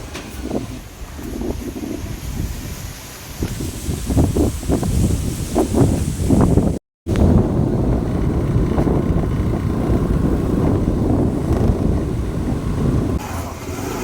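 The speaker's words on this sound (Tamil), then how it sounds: "காற்று அடிக்குது" Strong, steady wind roars and buffets the microphone ahead of a cyclone near Karaikal, a broad continuous rush with gusty swells and low rumbling throughout, no voices.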